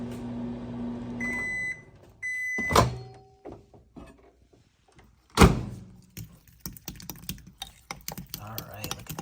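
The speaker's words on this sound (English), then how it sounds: "Put these back in the microwave." Microwave oven melting chocolate: a steady hum ends with beeps, followed by a door thunk, more beeps, a loud door slam, then clattering handling noises.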